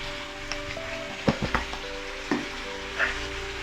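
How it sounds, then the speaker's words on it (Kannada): Chopped tomatoes and salt fry in a pan over browned onions for a Punjabi-style rajma masala. The soft, quiet sizzle is broken by a few light stirring clinks. "ಇವಾಗ ಟೊಮೆಟೊ ಹಾಕ್ತೀನಿ. ಇವಾಗ ಸ್ವಲ್ಪ ಉಪ್ಪು ಹಾಕಿ"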